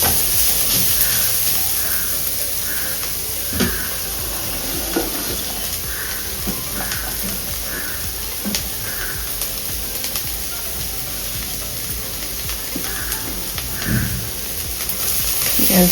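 Cooked rice for chicken fried rice stirs and sizzles steadily in a hot pan, with a continuous frying hiss and periodic scraping strokes from the spatula, close and moderately loud, without talk.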